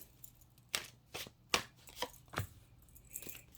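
Faint, close tarot card handling: soft slaps and sliding flicks as cards are shuffled and laid down, spaced irregularly in a quiet room.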